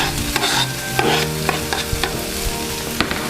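Roasted red peppers being sautéed in a pan, a loud continuous sizzle broken by frequent light clicks and scrapes of stirring, with no voices.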